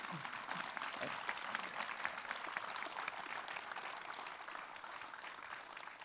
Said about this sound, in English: And give him a big round of applause, please.